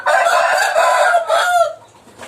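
A trained fighting-breed chicken lets out a loud, close crow with clucking tones, one strained call lasting about a second and a half before fading off.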